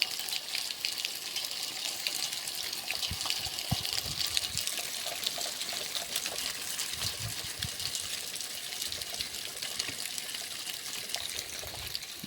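Water pumped through a pipe onto a poultry shed roof for summer cooling runs in a steady, faint, continuous gush and trickle with no voices.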